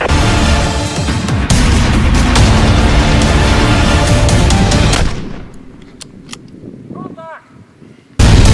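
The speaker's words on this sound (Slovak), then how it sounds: "Cieľ schválený, máte povolenie na streľbu." Heavy military gunfire roars in a dense, continuous barrage for about five seconds, then breaks off into quieter scattered noise before another loud burst cuts in at the end.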